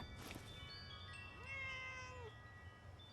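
A cat meows in Fallout 76, a single clear, drawn-out mewing call rising then holding steady, close and alone over faint ambient game background.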